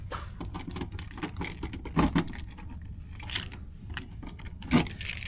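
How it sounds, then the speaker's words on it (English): Two sets of car keys for a 1996 Chevrolet Impala are handled up close, giving bright metallic jingles and clinks in irregular bursts, with a few louder shakes near the middle and end. "so I got 2 sets of keys here"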